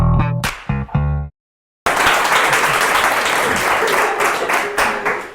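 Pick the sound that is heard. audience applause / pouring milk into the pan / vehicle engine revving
audience applause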